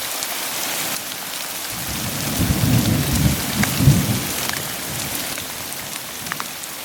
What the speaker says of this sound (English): I got pinned down for an hour by another thunderstorm,